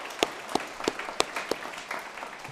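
Sparse, scattered clapping from a small audience at a school senior awards ceremony, a handful of distinct individual claps spaced irregularly over a quiet room.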